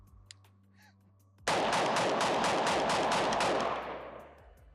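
A Sig MCX Ranch rifle fires a rapid, dense burst of shots that starts abruptly after a quiet moment and keeps up loud and sustained for about three seconds before it tapers off.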